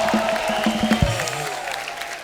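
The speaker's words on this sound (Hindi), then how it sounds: "जोरदार तालियां वर्षा जी के लिए हो जाए।" An audience applauds at a televised Hindi talk show, a steady wash of clapping with some crowd noise under a sustained musical tone.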